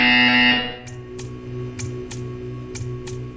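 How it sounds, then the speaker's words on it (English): In the video game Portal 2, a loud, sustained electronic buzzer drones and then cuts off abruptly, followed by a series of regular, evenly spaced ticking clicks over a low mechanical hum. "When you hear the buzzer, stare at the art."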